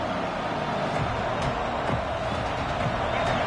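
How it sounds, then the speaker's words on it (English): Home crowd roar in a college football video game, Auburn against Mississippi State, a steady dense wash of cheering that holds at an even level for the whole stretch with no break. "Here comes this home crowd as the defense tries to get off the field on 3rd down."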